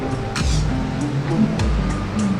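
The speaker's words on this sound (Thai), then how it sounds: "นี่เป็นบริเวณน้ำตกนะครับ" Water rushes at the Nine-Tier Waterfall in Ratchaburi, Thailand, as a steady, close, broadband roar with a low rumble underneath. Faint voices and a few brief knocks or splashes occur within it.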